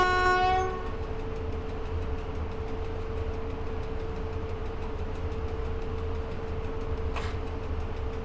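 A moving train in the video game Train Driver 2 gives a steady low rumble with a sustained tonal hum, a brief horn-like tone at the start and a short click near the end.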